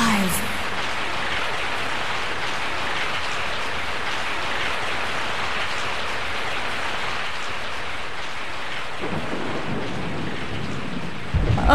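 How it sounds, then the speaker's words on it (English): Steady heavy rainfall with rumbling thunder in the survival horror game Resident Evil 3 Nemesis on PS1, a dense continuous wash that swells briefly near the end, with no talking. "I woke up to the sound of falling rain."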